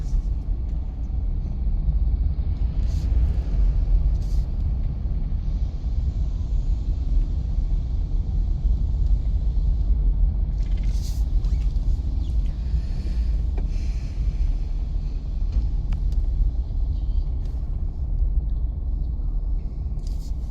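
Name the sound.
car engine during a driving lesson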